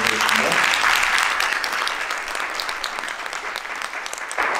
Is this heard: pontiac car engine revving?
no